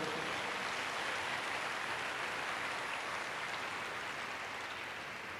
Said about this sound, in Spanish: dale un aplauso fuerte a nuestro Rey